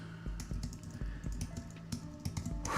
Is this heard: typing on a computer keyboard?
yes